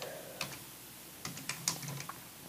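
Someone types on a computer keyboard, a few sparse close key clicks with a small burst of quick taps near the middle, quiet and alone without speech.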